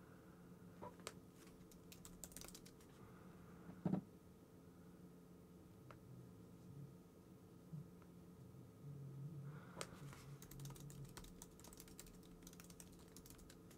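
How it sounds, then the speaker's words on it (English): Quiet keystrokes on a computer keyboard, irregular bursts of soft clicks with pauses between, one sharper tap standing out, recorded close but faint against a low steady room hum. "You're typing to"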